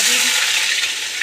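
Onion dropped into hot oil already holding whole garam masala, cardamom and bay leaves: a loud, dense, hissing sizzle that holds steady throughout, close and continuous.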